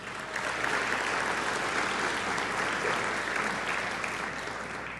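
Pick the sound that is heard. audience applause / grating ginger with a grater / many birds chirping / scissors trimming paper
audience applause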